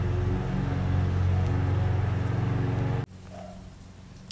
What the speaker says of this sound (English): That's the lawnmower.